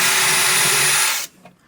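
A power drill opens out screw holes to 6mm in a campervan kitchen drawer, whining loudly and steadily up close for about a second before cutting off abruptly, leaving a faint knock in the quiet.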